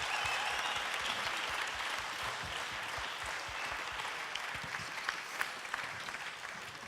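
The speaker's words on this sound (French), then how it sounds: "pour vos applaudissements." A conference audience applauds a stage presentation with sustained, even clapping that continues for about seven seconds, with a few sharper claps standing out near the end.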